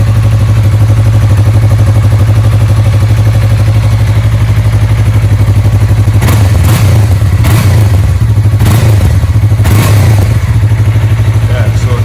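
A 2015-2021 Yamaha R3 motorcycle with stock exhaust idles steadily up close, then gets several short, blipping revs of the throttle that rise and fall against the constant engine rumble.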